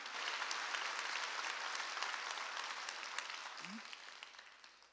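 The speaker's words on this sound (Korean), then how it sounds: "믿는 사람만 박수" A church congregation claps at a Wednesday worship service, a broad, continuous wash of many hands that stays steady and close, with a brief vocal sound near the end.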